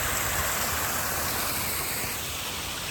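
Water rushes steadily into a canal lock through opened paddles, a continuous broadband gushing roar at moderate level, with no voices.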